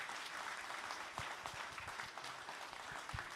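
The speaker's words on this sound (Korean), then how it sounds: "큰 박수 부탁드리겠습니다" A church congregation applauds during a Korean Wednesday evening worship service, sustained clapping from many people in a large room, fairly quiet and steady, with a few louder individual claps standing out.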